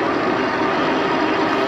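A steady, loud whirring drone from a Mukuta Knight full-suspension e-bike climbing a hill on throttle alone with no pedaling, the motor and wind noise holding constant the whole time.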